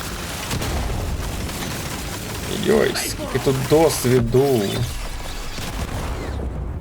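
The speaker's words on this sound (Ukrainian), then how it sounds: "Раніше це як хлопушка була, а зараз прям вибух так вибух" Drone explosions in the video game Deep Rock Galactic: Survivor, with dense rumbling booms and crackling bursts running throughout under game music and a player's voice talking over them.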